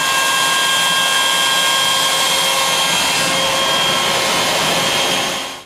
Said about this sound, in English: we'll put it back into the machine, lower the cut height, and start another finished cut